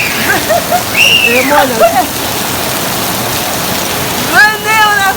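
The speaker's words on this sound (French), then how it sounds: "Je suis en train de me baigner vraiment sous la pluie" Steady rain falls in Luanda, Angola, a dense broadband hiss running through the whole stretch while someone talks and calls out over it close by.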